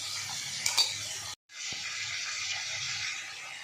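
Ginger, onion, garlic and chili paste is stir-fried in a pan, giving a soft, continuous sizzle with scraping stirs, a brief clink of the utensil, and a short pause before the sizzling resumes.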